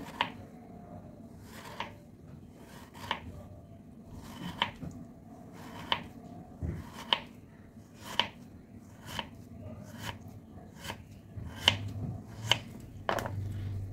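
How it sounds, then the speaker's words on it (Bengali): A knife slices a bottle gourd into thin pieces, cutting through the vegetable and striking the board in a steady series of crisp, evenly spaced chops, close and clear over a low background hum. "এইভাবে পাতলা পাতলা করে আমি প্রথমে কেটে নেব।"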